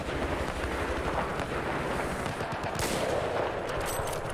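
Gunfire in the video game Battlefield 4 with a sniper rifle, a dense, steady barrage of rapid shots and booming bursts running throughout at moderate level, with no talk.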